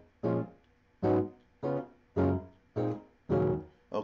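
Gospel-style chords struck on a keyboard in a steady sequence, six distinct full chords spaced about half a second to a second apart, each ringing briefly and decaying, played alone without talk.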